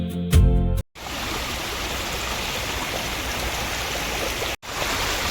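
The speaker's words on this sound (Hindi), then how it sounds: "2026 की बारिश का पहला छोटा सा झरना ये रहा" Rushing water from the small monsoon-fed Gai Mukh waterfall in Thane, Maharashtra pours in a constant broadband hiss, close and steady, briefly interrupted by two short cuts to silence after a quick opening thump.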